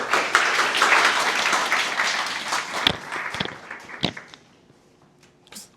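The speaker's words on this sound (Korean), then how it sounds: "다들 박수 부탁드립니다." Audience applause at a seminar, a dense burst of clapping from a room of listeners that swells loud for about three seconds, then thins into scattered claps and fades to quiet.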